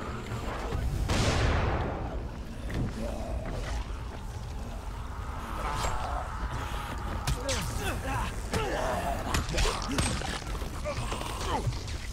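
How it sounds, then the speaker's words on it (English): Loud, dense Dying Light game action with booming explosions and crackling gunfire over a steady rumble, while a person talks excitedly throughout. "Oh god, explosion, explosion, explosion!"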